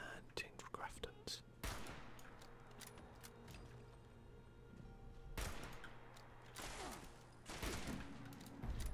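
Gunshots in the video game Fallout 76 crack out in several bursts of rapid fire with quieter stretches between, heard under soft whispered talking.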